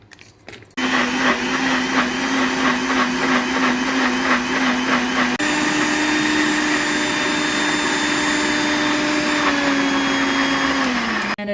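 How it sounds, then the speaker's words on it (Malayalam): A kitchen mixer grinder whirs loudly and steadily for about eleven seconds, blending a spice paste with half a cup of water for a Kerala prawn and raw mango curry, with a slight pitch shift midway and a drop as it stops. "അര കപ്പ് വെള്ളം ഒഴിച്ച് നമുക്ക് മിക്സിയിൽ അടിച്ചെടുക്കാം"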